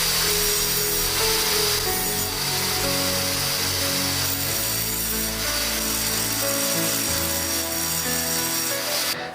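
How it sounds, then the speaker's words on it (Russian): An angle grinder cuts into metal, giving a steady, loud, harsh grinding and screeching whine that runs continuously, close up and without speech. "мы возьмем болгарку и посмотрим, что же за металл в себе она скрывает"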